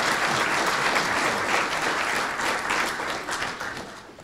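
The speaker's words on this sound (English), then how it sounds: "Please give him a round of applause." Steady, dense applause from an audience at a governor's executive order signing, sustained and fairly loud throughout with no talk over it, tapering slightly near the end.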